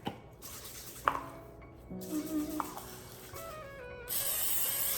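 Short hissing bursts of aerosol cooking spray onto a hot pan near the microphone, with faint clinks and a steadier hiss toward the end.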